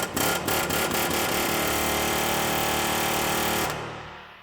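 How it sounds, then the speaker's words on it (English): An air hammer pounds the center of a rusted bolt with a loud, continuous rapid rattle right up close, starting with a few stuttering hits and then running steadily before cutting off near the end. "A little trick that sometimes works is taking an air hammer right to the center of the bolt."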